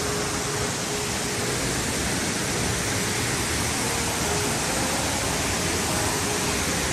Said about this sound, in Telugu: అదో వాటర్ ఫాల్.